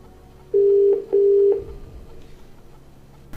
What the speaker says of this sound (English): Phone, call, Latika.